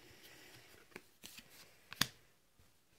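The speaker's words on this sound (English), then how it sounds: "The first thing we do on anyone's turn is we draw 2 cards." Monopoly Deal cards drawn from the deck on a tabletop, a few quick soft card slides and taps, with one sharper snap in the middle, close and without talk.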